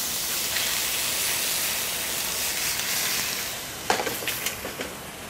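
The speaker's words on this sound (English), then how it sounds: "Just saute the garlic in there a little bit. And then a touch of white wine." White wine poured into a pan of sautéing garlic for a cioppino raises a steady, loud sizzle and hiss, with a few sharp crackles near the end.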